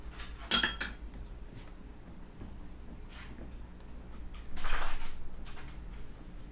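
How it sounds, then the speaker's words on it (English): A spoon clinks against a bowl as barbecue sauce ingredients with spicy brown mustard get mixed, a few sharp metallic taps followed by soft scraping and a louder stirring swirl near the end. "Give that a good mix."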